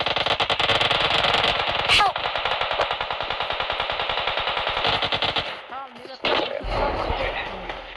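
Automatic gunfire in a video game rattles in rapid, evenly spaced bursts, loud and sustained for most of the stretch before a brief pause, while players shout over it.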